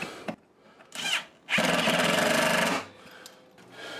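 A power screwdriver drives a screw into 3D printed parts for a PlayStation 4 under-desk mount, with short bursts and then a steady, loud whirring run at close range, followed by quieter handling.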